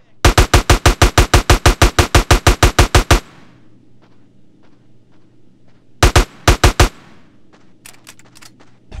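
Rapid automatic gunfire in GTA San Andreas, a long burst of evenly spaced loud shots, a pause with faint background hum, then a shorter burst of several shots.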